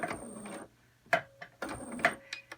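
A sewing machine stitches a dart into a fabric surgical mask, running in two short bursts of rapid mechanical whirring separated by brief pauses and small clicks.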